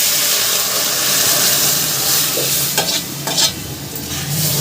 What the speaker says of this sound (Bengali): এবার আমি ডালটাকে দিয়ে দিচ্ছি, সেদ্ধ করা ডালটাকে দিয়ে দিচ্ছি।